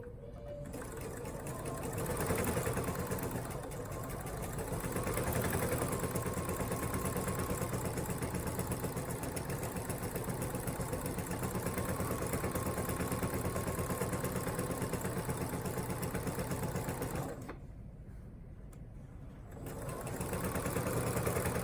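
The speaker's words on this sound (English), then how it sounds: "sew them with a 1/4 inch seam from the top of one curve all the way around to the top of the other curve" A sewing machine stitches fabric Halloween bunting flags with a quarter-inch seam, whirring in a fast, steady run close up, easing briefly near the end before starting again.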